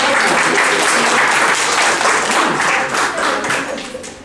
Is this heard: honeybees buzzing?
no